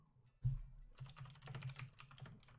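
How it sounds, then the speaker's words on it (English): Bursts of clicky keystrokes rattle on a loud keyboard, rapid and close, after a single heavier thump at the start. "Oof, on my loud ass keyboard."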